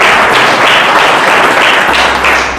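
A congregation at a church service claps together in praise, a dense, steady wash of applause that fills the space and carries on without a break from start to finish, no voices rising above it.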